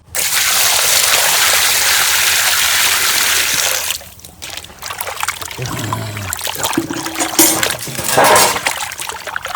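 Pieces of a large 4 kg sea laufoli fish are washed by hand in water, with steady splashing and sloshing for the first few seconds, then softer, intermittent trickles and splatters.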